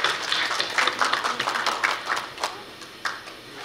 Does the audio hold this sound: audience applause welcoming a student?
yes